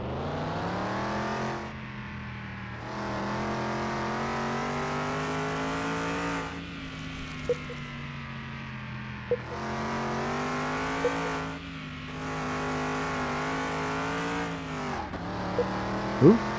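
A custom car's engine revs hard on a test track in Car Mechanic Simulator 2021, rising in repeated high-pitched climbs that drop sharply at each gear change, loud and steady, with brief tire chirps near the end.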